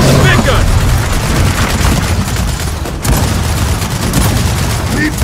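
A big gun fires in the Gears of War 4 video game: continuous, heavy, booming automatic fire, loud and unbroken for the whole stretch, with voices mixed in underneath.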